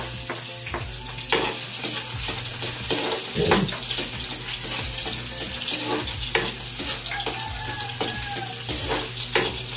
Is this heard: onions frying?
yes